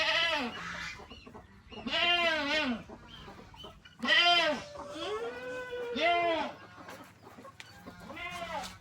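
Chickens in a backyard farm pen beside goats and geese give a run of close, fairly loud clucks and calls in irregular bursts over about nine seconds.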